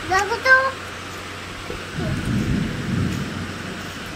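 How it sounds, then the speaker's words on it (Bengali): Low rumbling thunder from a gathering storm rolls in after a brief voice at the start, a deep swelling growl lasting a couple of seconds with steady outdoor noise beneath. "ভালো ঝড় উঠেছে"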